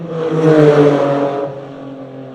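Historic racing cars roar past on a circuit in a loud close sweep, engines rising to a peak and then fading into a steadier drone as they head away.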